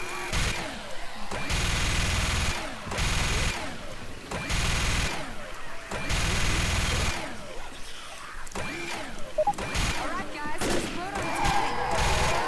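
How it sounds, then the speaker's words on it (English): Mounted gun in Left 4 Dead firing in long heavy bursts, loud and close, broken by short pauses, with people talking over and between the bursts. "I'm on the mounted gun."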